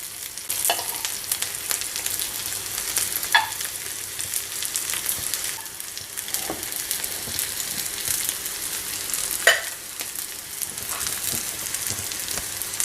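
An oats and vegetable cutlet fries in a pan over a low flame, giving a steady close sizzle and crackle with a few sharp clicks and taps of a utensil as it is flipped.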